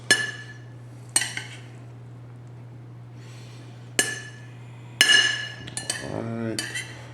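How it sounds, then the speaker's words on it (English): Beef tips and gravy stirred in a pot with a metal utensil, giving sharp clinks and scrapes against the pot at uneven intervals over a steady low kitchen hum. "Give this a quick stir, make sure everything's good."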